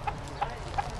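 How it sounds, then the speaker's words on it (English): A rooster gives three short, soft clucks at an even pace, close by, over a low background hum. "there's my little rooster friend"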